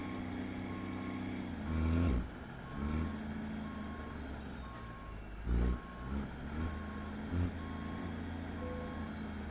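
Steady reversing beeps from a truck backing up in American Truck Simulator repeat at an even rhythm over a low engine drone, with a few louder bursts of engine or air noise breaking through.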